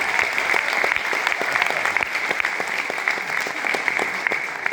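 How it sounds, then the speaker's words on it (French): An audience at a CEO tour event in Paris claps for the presenters and those who gave testimonies, dense, steady applause at fairly loud level running the whole time. "S'il vous plaît, des applaudissements pour nos présentateurs et tous ceux qui ont donné leur témoignage."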